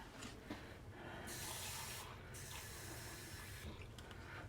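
Tap water running and splashing as it is added to a pan of extremely fine pre-cooked flour for a pot roast slurry, a steady broadband rush with short breaks in flow.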